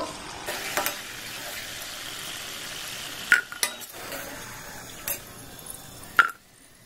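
Snacks made from raw potato and flour fry in a pan with a continuous close sizzle, broken by a few sharp metallic clinks and scrapes of a utensil against the pan.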